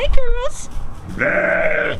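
A sheep gives a clear, wavering bleat up close right after a woman's short greeting, the call lasting under a second.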